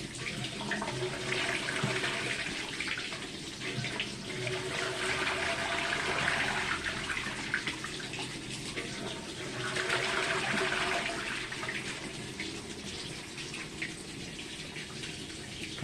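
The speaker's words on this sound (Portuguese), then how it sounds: "Meu Deus, o barulho da água." A household tap runs with a steady, close rush of water that swells and eases in waves, while a cat plays with the stream; no speech is heard.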